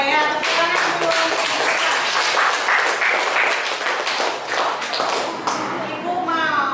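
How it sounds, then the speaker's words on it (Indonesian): Classroom applause from children, steady rapid hand clapping close by for most of the clip, with voices mixed in and someone speaking at the end. "Tepuk tangan dulu."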